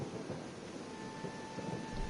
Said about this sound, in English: the improvements that they made to the thunder and rain system